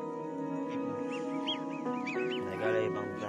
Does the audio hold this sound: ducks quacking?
yes